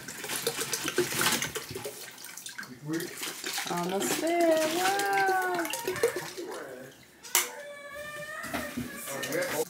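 Water pouring into a pet fish tank at home, a continuous splashing rush that runs under an adult and someone talking.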